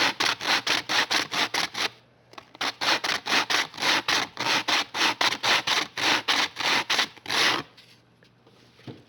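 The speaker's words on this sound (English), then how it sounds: "I go ahead and I'll sand the edges down here to try to get them leveled out some more" Sanding the edges of veneer on a wooden Sears Silvertone radio cabinet: a fast run of rhythmic, close abrasive strokes, roughly two per second, with a brief pause near the start and quiet at the end.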